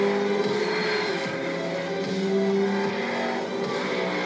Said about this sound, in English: The all-wheel drive acceleration of the W16 quad-turbo Bugatti Veyron will change the way you look at life